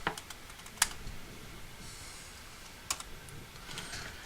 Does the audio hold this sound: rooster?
no